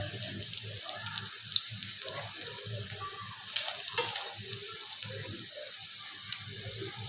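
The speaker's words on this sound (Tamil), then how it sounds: "சொசேஜஸ் ரெடியாக விட்டு இதே அளவு பொரிஞ்சால் போதும்" Sausages fry in a pan with a steady, continuous sizzle and faint crackling throughout, heard close and alone without talk.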